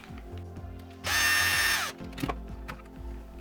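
A power driver undoes screws on the shocks of a WLtoys 144001 RC car. It gives one loud, near, high whirring burst of under a second, with clicks and handling sounds before and after.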